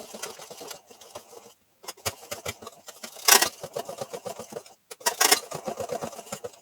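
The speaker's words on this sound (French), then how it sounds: "On vient fouetter. Pour que ce soit bien homogène avant de rajouter le troisième œuf." Hazelnut cake batter with eggs is whisked by hand in a bowl, giving quick rapid clicking and tapping strokes in uneven bursts with short pauses, close and fairly quiet.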